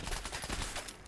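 Rapid gunfire from a Fallout 4 firefight fills the moment, dense overlapping shots in quick succession at steady loudness with no voices.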